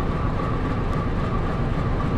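A locomotive newly arrived from Sumatra rumbles steadily at an Indonesian railway station, a loud continuous engine drone with a faint tonal hum, heard close with no talking.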